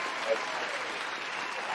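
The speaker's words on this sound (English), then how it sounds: "I approve of all this applause." A studio audience keeps up a soft, steady wash of applause, distant and even throughout, with a brief voice-like tone near the start.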